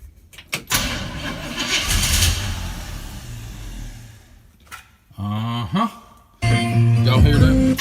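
A 1965 Chevy pickup that sat unused for 15 years is cranked by its starter in a long, grinding burst, then gives short sputters and brief firing bursts without settling into a steady idle.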